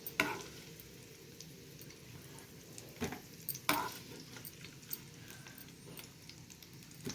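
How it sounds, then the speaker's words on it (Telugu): Drumsticks (munagakaya) frying in oil in a pan until browned, a soft, steady sizzle with occasional stirring scrapes and clatters, fairly quiet and close. "మునక్కాయలు వేసుకొని కాస్త మెత్తబడే వరకు వేయించుకొని పక్కకు తీసుకోవాలి"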